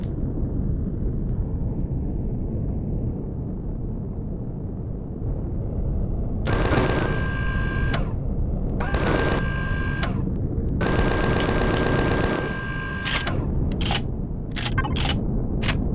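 Weapon fire at a drone in the space survival game Empyrion Galactic Survival, several bursts of rapid shots over a constant loud engine-like rumble, followed by a few short separate blasts.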